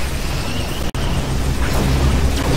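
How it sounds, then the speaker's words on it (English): Ion cannon strike in Command & Conquer 3: Tiberium Wars, a loud, sustained broadband roar and rumble of the blast with a brief sharp dropout near the start. "Ion cannon activated."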